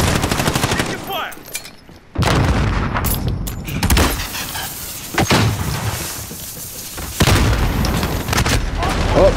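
Grenade blasts and rapid gunfire from Call of Duty: Modern Warfare multiplayer ring out in a dense, loud, continuous barrage of booms and shots, with a player talking over the action.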